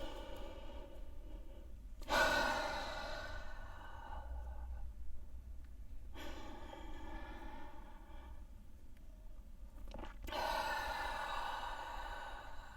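Slow, full breaths during a posture exercise: a drawn-out exhale and an inhale, each rising and fading in a few long swells, close and quiet with no talking.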